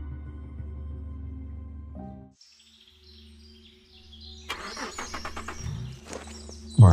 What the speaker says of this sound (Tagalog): Ilang beses na niyang sinubukang paandarin yung sasakyan pero namamatay ang makina.